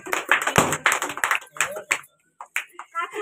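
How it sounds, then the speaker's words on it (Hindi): Clapping at a small home party celebrating 10k subscribers ahead of cutting a cake, with people talking over the claps; loose, uneven claps that come in bursts and then thin out. "हम ताली लगाएंगे।"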